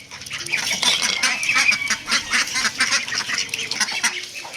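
A flock of ducks quacks and honks continuously, many birds calling over one another at a steady, busy level.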